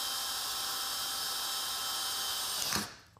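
A power drill bores through a resin clock, a steady high-pitched whine running continuously and close, then abruptly winding down and stopping near the end.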